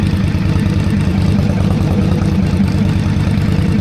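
An Indian motorcycle engine idles with a steady low throbbing rumble, close and continuous on a city street at night, with no talking.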